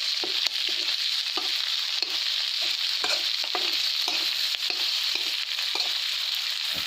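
Crickets fry crisp in hot oil with kaffir lime leaves, a steady close sizzle punctuated by frequent short scraping stirs of a spatula against the pan.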